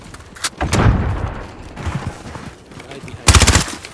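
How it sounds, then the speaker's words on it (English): Call of Duty video game gunfire rings out in short bursts of sharp shots, a few spaced cracks early and then a loud rapid burst near the end over a noisy game background. "Stop shooting at me."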